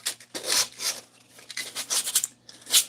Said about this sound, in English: Now you get the dulcet sounds of me sanding.